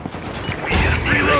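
A gun reloads in the first-person shooter Critical Strike during a team deathmatch: soft mechanical clicks, then a louder metallic clack and rack of the weapon, heard under a brief voice.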